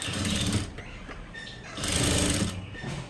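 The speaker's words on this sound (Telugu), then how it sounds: "మామూలుగా ఫాస్ట్ కుట్టేస్తాను మీకు ఇప్పుడు అర్థం అవడం కోసం నేను ఇంత స్లోగా మీకు చూపిస్తున్నాను" Sewing machine with a normal presser foot stitching thread piping, running in two short whirring bursts with a pause between, close and loud.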